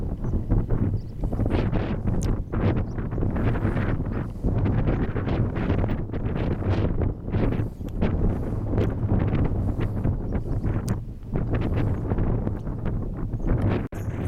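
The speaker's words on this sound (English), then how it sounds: "As you can hear, the wind's pretty strong." Strong wind buffets the microphone on an open hillside walk toward Pen-y-ghent in the Yorkshire Dales, a loud continuous roar with gusty surges and no talking.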